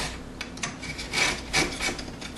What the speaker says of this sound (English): I'm just shaving off the back of the sheetrock